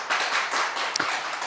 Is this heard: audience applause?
yes